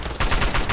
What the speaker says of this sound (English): The bullet sound effects are really thin, but I kinda like that, at least with automatic weapons.